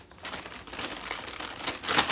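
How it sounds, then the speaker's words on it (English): Playing cards being shuffled around inside a paper bag, a steady dry crinkling and rustling with brief papery scrapes, close and fairly quiet, with no talk. "shuffle them in the bag"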